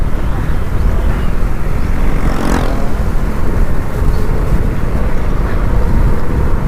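A Honda XRM 125 Fi dual sport motorcycle runs, its engine buried in loud, steady wind and road rush with only a faint rise in engine tone partway through.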